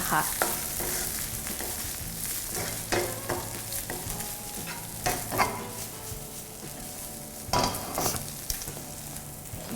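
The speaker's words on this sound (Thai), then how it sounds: "เราจะใส่ตัวเส้นมาม่าค่ะ คลุกเคล้าให้เข้ากัน" Instant noodles being stirred and tossed with canned fish in a frying pan, with soft sizzling and repeated scraping, clattering utensil strokes at an uneven pace, close by with no talking.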